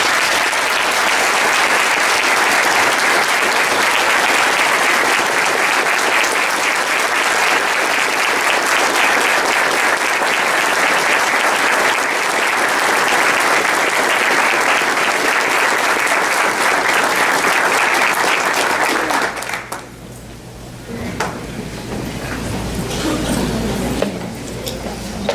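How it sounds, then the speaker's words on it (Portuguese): Sustained, dense audience applause at a new-lawyer admission ceremony of the Paraná bar in Londrina, loud and steady for about nineteen seconds before cutting off abruptly into quieter room noise. "merecida salva de palmas."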